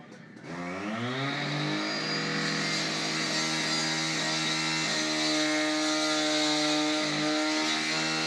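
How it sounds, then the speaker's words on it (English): A STIHL 710i fuel-injected cut-off saw with a 14-inch wheel cuts through a 2-inch concrete paver, a loud continuous engine whine that rises in pitch as the wheel bites and holds steady for several seconds. "going to be cutting a 2-inch concrete paver"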